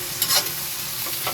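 Onion and garlic sauté in a pan for pakbet, a steady close sizzle broken by a few short scraping stirs.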